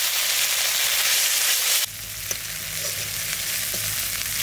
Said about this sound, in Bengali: ফোড়নে দেব কালো জিরে, শুকনো লঙ্কা বাটা